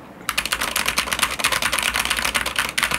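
Rapid, continuous typing on a Steelseries Apex Pro TKL gaming keyboard, dense clattering keystrokes close up with a faint background hum and no talking.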